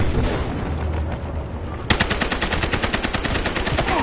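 Automatic weapon fire in a shooter video game: after a stretch of rumbling background noise, a sudden rapid string of crisp, evenly spaced shots rattles on continuously and loudly.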